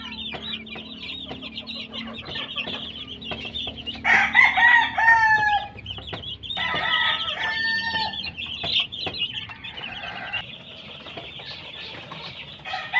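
Chickens clucking and calling at a poultry house as they are set down in a brooder at night, with bursts of wing flapping and a rooster-like crow rising from the steady flock chatter.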